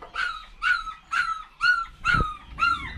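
A young farm dog gives six rhythmic whimpering yelps, each a high whining bark about half a second apart, close and fairly loud with no talk.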